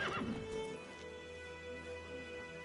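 Roach, the horse in The Witcher 3, lets out a short whinny at the start, followed by a low steady hum of game ambience.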